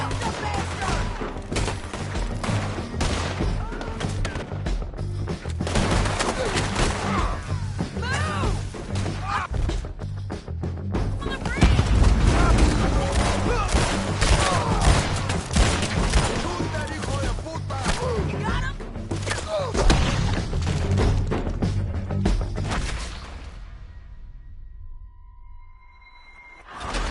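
Rapid gunfire and shouting fill a Red Dead Redemption 2 shootout, dense loud volleys with crashes and impacts layered under game voices and music for over twenty seconds before trailing into a quieter tail.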